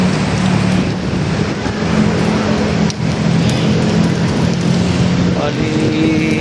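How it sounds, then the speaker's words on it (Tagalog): Light drizzle falls beside the swollen Marikina River as the water rises. A soft, even wash of rain continues throughout, with a low engine-like hum underneath and people talking nearby. "Medyo ano naman yung ulan, ambon-ambon na lang muna no"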